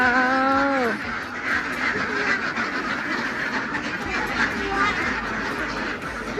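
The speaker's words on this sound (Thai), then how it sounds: "อันนี้เป็ดของเรา" Ducks quack on a small farm where eggs are being gathered. One loud, close call opens the sequence, followed by fainter, scattered quacks over a busy background.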